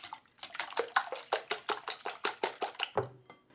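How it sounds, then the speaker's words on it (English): Rapid steady whisking of a dessert mixture seasoned with finely ground salt, a brisk metallic beat of about a dozen strokes repeating close by, ending with a dull knock of the bowl. "Whisk again."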